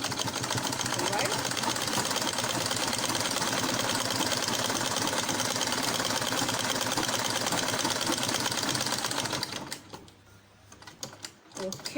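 A sewing machine stitching Ankara fabric runs in one long, steady, loud burst that buzzes continuously, then stops near the end, leaving a few faint handling clicks.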